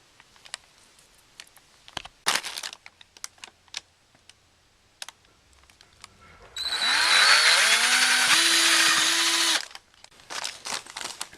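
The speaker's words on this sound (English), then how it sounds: "drill a hole the same size as the bolt to go through there" A power drill bores a hole for a bolt in a homemade Boeing 737 landing gear lever, its steady loud whine lasting about three seconds, with scattered clicks and handling taps before and after.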